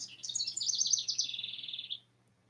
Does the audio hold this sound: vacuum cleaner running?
no